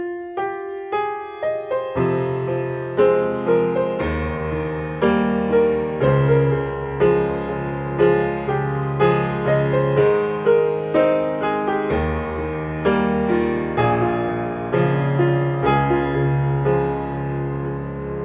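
Slow piano chords play a song, each chord struck separately and left to ring in a steady, measured rhythm with no voice over it.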